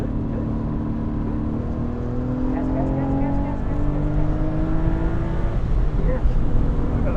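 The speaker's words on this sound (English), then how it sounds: "And another proper downshift." Porsche 986 Boxster engine on a race track, droning steadily through the cabin and rising in pitch as it downshifts, loud and continuous with faint voices underneath.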